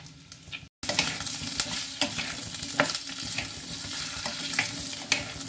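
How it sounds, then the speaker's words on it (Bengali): Potatoes fry in hot mustard oil in a clay pot, a steady close sizzle broken by scraping stirs, with a brief dropout early on and no voices. "তেল গরম হয়ে গেল আমি আলুটা কষি দেবা যেটা কাটি রাখি"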